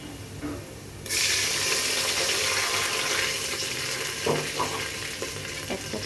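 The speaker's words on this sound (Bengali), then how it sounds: "আমি একটু সামান্য পানি দিয়ে নেব।" Water is poured into a pan of deep-fried onions while cooking beef tehari. After a quieter start, a loud hissing sizzle bursts in at once and stays steady to the end.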